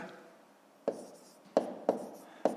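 Pen writing numbers by hand for column multiplication, a faint scratching stroke followed by several sharp taps and strokes on paper, close and quiet.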